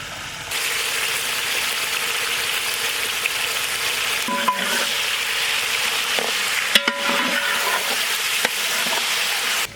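Sliced potatoes and ginger garlic paste frying in a pot, a loud steady sizzle throughout with occasional scraping and clanking stirs near the middle and end.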